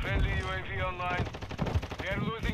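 Automatic gunfire in Call of Duty: Modern Warfare II, a rapid rattling stream of shots mixed in under someone talking, close and steady.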